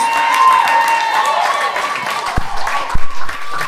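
A church congregation acclaims and applauds after a sermon, a diffuse crowd noise with a few sharp claps toward the end, mixed with voices and a sustained tone.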